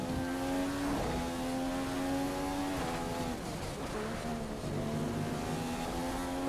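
A Formula 1 race car engine in the F1 2015 video game at the Spanish circuit gives a loud, continuous high-pitched drone, rising steadily and dropping abruptly at several gear shifts.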